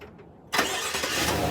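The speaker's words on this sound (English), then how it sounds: "I'm going to try a remote start now." Chevy Silverado engine firing up by remote start, quiet before a sudden crank and catch that settles into a steady idle rumble, heard from nearby outside the truck.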